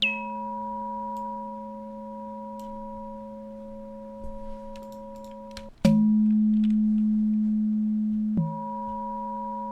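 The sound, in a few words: synthesizer transient effect tone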